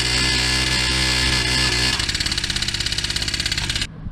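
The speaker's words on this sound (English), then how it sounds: "But I just want to see if the engine works good." A cheap, worn moped engine runs loud and close on a test ride, a steady buzzing drone that shifts into a choppier, pulsing putter before cutting off abruptly near the end.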